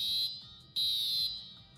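Fire alarm in a Roblox Maple County roleplay at a fire station, sounding as a high electronic tone in two pulses, steady and fairly loud with faint background noise underneath.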